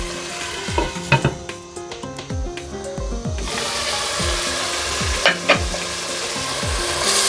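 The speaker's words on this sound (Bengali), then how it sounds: "এবার আমি মশলাটা কষিয়ে নেব।" Spice paste frying for mutton rezala, a loud close sizzle with repeated spoon scrapes and knocks against the pan, the hiss swelling after a few seconds into a dense, steady crackle.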